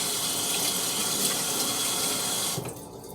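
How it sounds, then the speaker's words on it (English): A kitchen tap runs steadily as a knife is rinsed under the water, a continuous close splashing hiss that drops off sharply near the end as the flow is cut. "Then I rinse it off."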